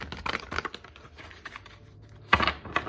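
Tarot cards are shuffled in quick riffling bursts, close and crisp, with a pause between rounds and a final louder flurry, no talking.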